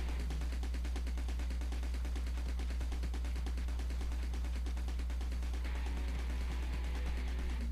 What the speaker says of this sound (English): this is the one with the randomized bullet pattern